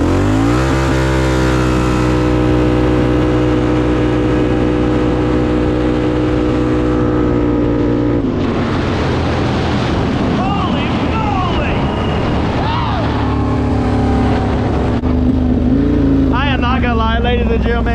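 A Can-Am Outlander 840 ATV engine roars up from a roller start, a loud sustained rising drone with strong harmonics, then rougher buffeting and wind noise as the machine speeds away, all close and without pause.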